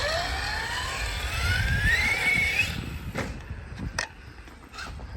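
A Primus Desert King RC car drives off-road, its electric motor whining and climbing steadily in pitch as it speeds up, then cutting off into gravelly crunches and sharp knocks from the ground, close by.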